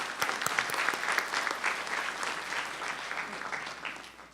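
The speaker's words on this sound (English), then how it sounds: "Give her a round of applause." Sustained audience applause at an evening early college information session on cybersecurity and computer science, steady dense clapping for over four seconds at moderate volume, easing slightly toward the end.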